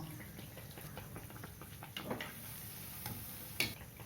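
Adhirasam, a rice-and-jaggery sweet, frying in hot oil, with a steady soft sizzle and occasional small pops and stirring clicks, fairly faint and without talk.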